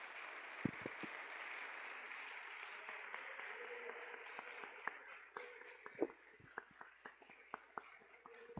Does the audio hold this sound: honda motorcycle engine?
no